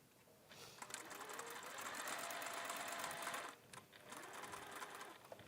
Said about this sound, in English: You don't have to sew right to the end because it's pretty pointy.